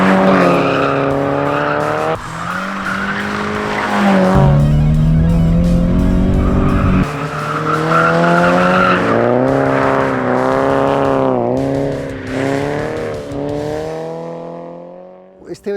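A Toyota GT86 sports car drives hard on a track, its engine revving up and down through gear changes while the tires squeal loudly through corners, close and continuous.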